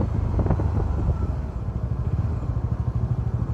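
A motorcycle engine chugs along at low speed through a long traffic jam, its uneven putter steady and close, with a few faint clatters around it and no talk.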